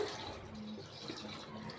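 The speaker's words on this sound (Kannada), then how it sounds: "ಇವಾಗ ಅದು ಟೊಮೊಟೊ ಹುಣಸೆಹಣ್ಣಿನ ನೀರು ಹಾಕ್ಕೊಳ್ತಾ ಇದ್ದೀನಿ" Tomato tamarind water poured into a cooking pan in a home kitchen, a faint continuous splashing trickle of liquid close by.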